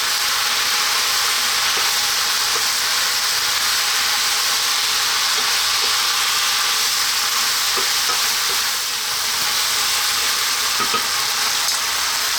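Mushrooms and bok choy sizzle and fry in a hot pan for chicken fried rice, a steady loud hiss with occasional faint stirring clicks and no talking.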